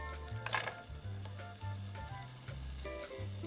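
Onions and garlic sizzle steadily in a tablespoon of olive oil over medium heat, a close, continuous frying hiss with a few light stirs, heard alone under a faint tonal background.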